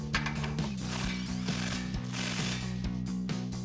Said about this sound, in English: now we can thread on our lower strut nut for the bolt and tighten this down with our 22